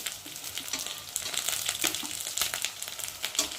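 Onions frying in a pan with ginger, cumin and mustard added for a tilapia curry, a dense steady sizzle with light crackles and stirring scrapes, close and even, no voices.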